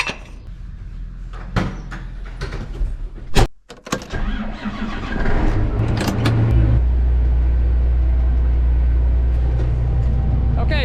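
A John Deere 8220 tractor's engine cranks after a clunk of the cab door, catches, and settles into a loud, steady low idle that continues to the end.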